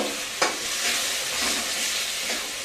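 Potatoes and ground spice masala with turmeric stir-fried for a mutton head curry, a steady broadband sizzle with a sharp scrape of the spoon early on and softer stirring after.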